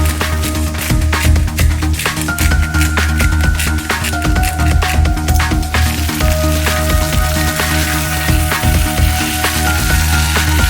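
Sausage fries in a hot pan with a steady, loud sizzle and crackle that runs unbroken throughout, with occasional faint stirring sounds.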